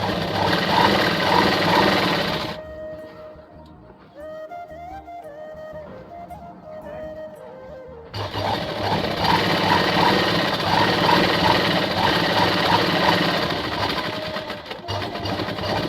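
Sewing machine stitching the folded half-inch hem of a lungi, running in a fast steady whir, stopping midway while quieter sounds continue, then starting again loud and close.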